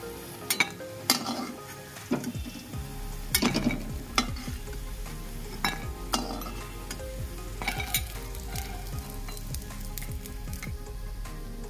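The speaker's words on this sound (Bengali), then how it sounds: "কড়াই থেকে তোলার সময় ঠন ঠন আওয়াজ হচ্ছে, তার মানে দারুণ মুচমুচে হয়েছে বোঝা যাচ্ছে।" Crisp vegetarian sago cutlets are lifted out of a wok of sizzling oil, knocking with sharp, hollow clacks at irregular intervals over a soft, continuous fry hiss close by.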